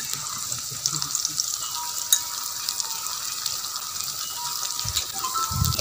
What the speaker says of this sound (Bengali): প্রথমে জিরে বাটা দিয়েছি, এবার দেব আদা বাটা,